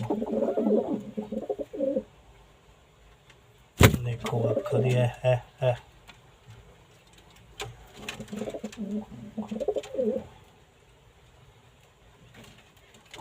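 Pigeons coo in repeated low, throaty bursts, close by, with someone speaking between and over the calls and a brief sharp knock partway through.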